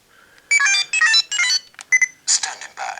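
Faiz Phone toy from the Masked Rider Faiz CSM Faiz Gear being dialed with code 555, giving sharp electronic keypad beeps and tones in several quick bursts, loud and close, followed by short synthetic chimes.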